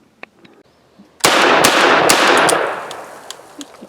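A Yugo Zastava M56 rifle fires a loud, close report that rings out and decays over a couple of seconds, bracketed by faint mechanical clicks before and after, with no talking.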